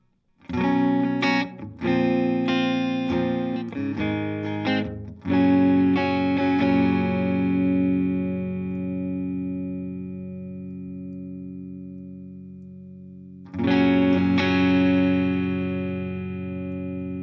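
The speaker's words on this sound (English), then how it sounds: "A little bit of the room reverb will tie everything together." Distorted electric guitar through BIAS Desktop amp modeling plays a quick riff and then sustained ringing chords, with a roomy reverb tail lingering as each chord decays.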